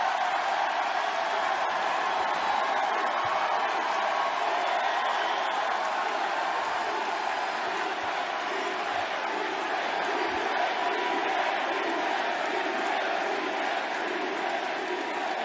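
A large crowd at a wrestling match roars with sustained cheering and chanting, a dense continuous wall of voices at steady volume throughout.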